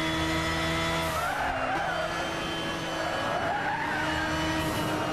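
Tires squeal steadily as a mid-powered car drifts through a corner in Gran Turismo 6, a continuous loud screech over a droning engine, with the pitch sweeping up and down as the slide changes.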